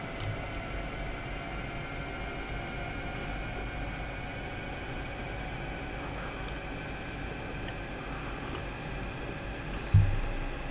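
A train on the Magdeburg to Leipzig Connewitz service in Train Sim World runs with a steady droning hum and rumble, continuous and even throughout, ending in a brief low thump.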